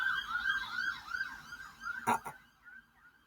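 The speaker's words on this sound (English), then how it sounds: "Did you hear all those sirens?" Wailing sirens cycle up and down in the distance, with a couple of sharp knocks near the end before the sound cuts out.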